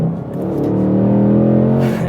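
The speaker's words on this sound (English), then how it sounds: "You purposely end up going through every single gear just to hear that V8 engine sing." A 2025 Ford Mustang GT V8 revs hard on a downshift with active rev matching, a loud, close, steady growl whose pitch climbs and holds for about two seconds with no talking.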